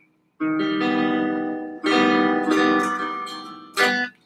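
Clean, ringing inside chords strummed on a PRS Santana electric guitar, three separate chord hits each sustaining and slowly fading, played alone with no talk.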